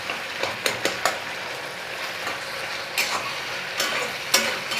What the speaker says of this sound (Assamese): আৰু এতিয়া মাছৰ মূৰখিনি দি দিছোঁ ইয়াতে